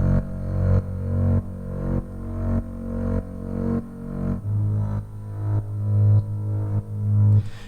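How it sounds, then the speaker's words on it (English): A bass sound under sidechain compression, with deep sustained tones that duck and swell in a steady pumping rhythm, loud and alone with no voices. "if you add that compressor to your bass sound, it will sound like this"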